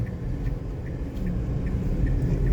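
Inside a Dacia Duster with a 1.2 petrol engine and manual gearbox while driving, a steady low engine and road rumble that swells slightly toward the end, with faint ticking above it.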